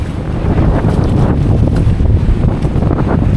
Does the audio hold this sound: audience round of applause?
no